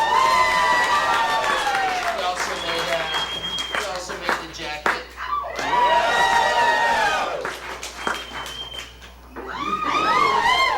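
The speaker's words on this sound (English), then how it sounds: "Give him a round of applause." An audience at a comedy show cheers and claps in waves, loud bursts of shouting and applause that rise, dip and return, with someone speaking over part of it.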